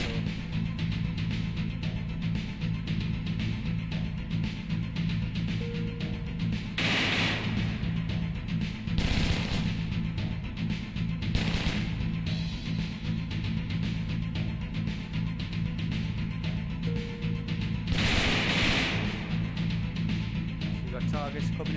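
Shotgun blasts in the VR game Hot Dogs, Horseshoes & Hand Grenades, a handful of sharp booming shots spaced several seconds apart over a continuous background, with someone talking throughout.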